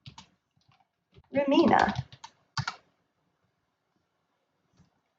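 Keys clack on a computer keyboard as a terminal command is typed on a Linux Mint machine. A few sharp, close clicks come in small bursts around a short spoken word, then it falls quiet.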